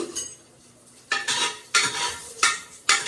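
Cinnamon, cloves, cardamom and star anise stirred in hot oil in a pan, a few distinct scraping stir strokes over a light sizzle, close up, no talking.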